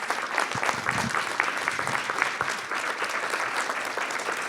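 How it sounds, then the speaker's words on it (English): Audience applause for students at a Board of Education business meeting: a sustained, dense roar of many hands clapping in a large room, steady throughout with a few low thumps and no clear speech. "Can we give these bright and talented young women a round of applause?"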